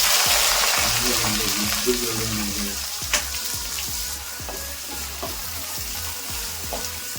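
Finely chopped onions hit hot oil with peppercorns and whole spices, a loud continuous sizzle that slowly settles, with repeated clicks and scrapes from stirring and no voices.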